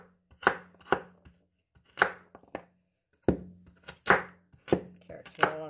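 Carrots for a kale chicken vegetable soup are chopped with a knife on a board: sharp, close, irregular thunks, about nine strikes with short pauses, mostly alone without talk.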